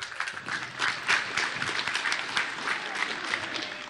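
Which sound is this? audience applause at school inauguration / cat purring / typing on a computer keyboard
audience applause at school inauguration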